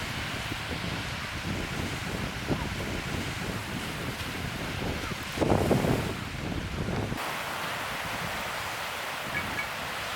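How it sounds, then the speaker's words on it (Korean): Ocean waves roll in at a Busan beach where surfers ride, a steady broadband wash under strong wind noise on the microphone, with one louder surge of surf partway through. "저기가 파도가 제일 센가 보다."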